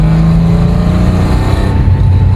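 A classic early air-cooled Porsche 911 narrow-body engine revs loud and close, a rough, throbbing drone with strong low harmonics that holds steady and then eases slightly toward the end.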